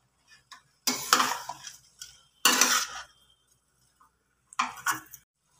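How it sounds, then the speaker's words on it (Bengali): Spoon scrapes and clinks against a pot as rice is stirred and fried with spices on high heat for a soya chunk pulao, coming in three short bursts of metallic scraping separated by quiet pauses. "এবার গ্যাসটাকে একটু হাইয়ে দিয়ে আমি চালটাকে মশলার সাথে ভালো করে ভাজবো।"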